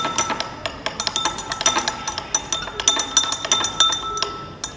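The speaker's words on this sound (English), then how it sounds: "Then we stir it." A spoon clinks against a glass while sodium chloride is stirred into water, giving a quick run of bright, close taps in an irregular rhythm with no talking.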